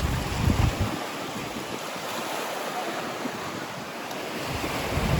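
Sea waves wash and crash against shoreline rocks at Can Picafort on Mallorca, a steady broad rushing roar with heavy wind buffeting the microphone.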